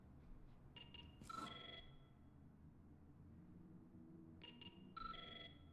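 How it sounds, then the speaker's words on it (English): A telephone rings twice in the ghost photography video game Invocation: Ghost Photography, each a short electronic trill burst repeated, soft and clear over a low background hum. "I think that's the phone ringing."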